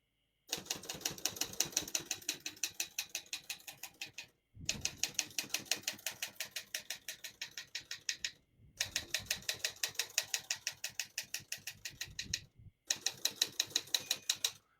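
A 1954 Olivetti Studio 44 portable typewriter clacks in four rapid bursts of keystrokes, each run a crisp, close mechanical patter separated by short pauses.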